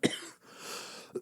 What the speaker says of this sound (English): there I go coughing